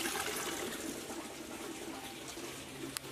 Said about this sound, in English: you can see it all just pouring out into the bucket now.